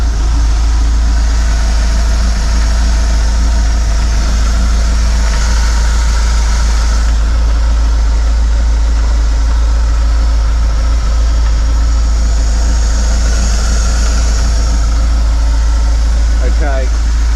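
A car engine idles steadily nearby with a deep, continuous rumble throughout, and voices come and go faintly over it.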